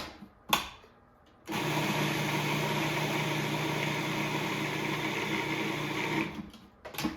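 A food processor blends a dip made with fresh lemon in one continuous, loud whirring run of about five seconds. Brief knocks and quiet sound before and after it.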